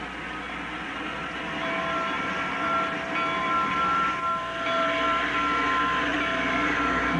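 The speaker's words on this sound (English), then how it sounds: "The 2 locomotives edged forward." Two steam locomotives edging forward on the railroad, a steady loud rumble of the train with faint tonal whistle-like lines running through the whole stretch and no talk.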